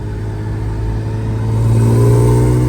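A Lexus IS300 car engine revs up from a steady idle, its low rumble swelling louder and rougher toward the end, heard close with no talking.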